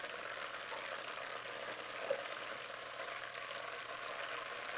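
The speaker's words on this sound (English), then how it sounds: "Just gonna stop and stir the oil for a second, get all the sediment out of there" Hot frying oil left after chicken wings fizzes with a faint, steady sizzle, one small clink of a utensil partway through, quiet and even with no voices.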